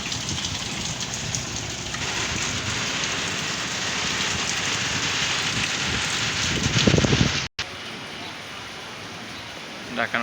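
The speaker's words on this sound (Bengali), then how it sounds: "অনেক বৃষ্টি হতেছে," Heavy rain pours with gusting wind at the Sadarghat river port in Dhaka during Cyclone Remal, a loud, steady wash of rainfall and wind buffeting the microphone, swelling briefly before a short dropout, then continuing.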